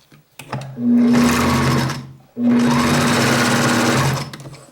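A domestic sewing machine stitches two fabric pieces together, right sides facing, for a child's dungaree. It runs in two loud, steady bursts of about a second each, separated by a short pause, with clicks between.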